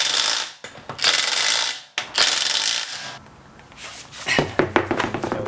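Ratchet wrench working the lug nuts on a Toyota GR Supra rear wheel, loud rapid rasping bursts with pauses, then a run of sharp metallic clicks and clunks close by.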